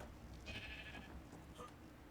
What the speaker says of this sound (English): A female sheep.